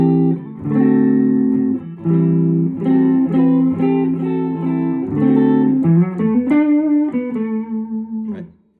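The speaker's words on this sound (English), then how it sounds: "Here's the sound of the guitar clean." Epiphone 1960 Tribute Les Paul electric guitar with humbuckers played clean, sustained chords ringing through a series of changes, loud and close with no talk.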